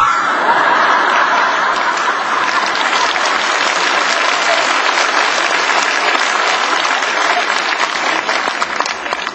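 Sustained, loud applause from a lecture audience fills the whole stretch, dense and steady with a few scattered chuckles mixed in.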